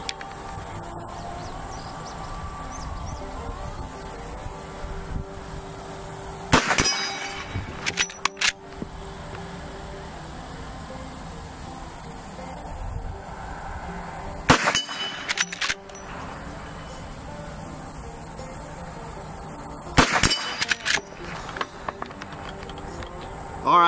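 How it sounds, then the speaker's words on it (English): A lever action rifle fires at metal plates 50 yards downrange, with three sharp shots spaced several seconds apart, each followed by a faint metallic ring and mechanical clacking, over a steady outdoor background. "we put three shots downrange there, all of them dead center, right in the middle of those metal plates"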